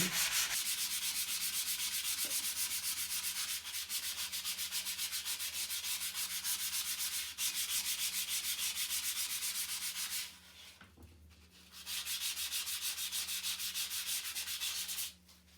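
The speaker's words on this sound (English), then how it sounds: "So I'm just going to sand it, and sand it lightly." A drywall patch is sanded lightly by hand in a freshly painted room, giving a steady close rubbing hiss that runs continuously, pauses briefly near the end, then resumes. No one speaks.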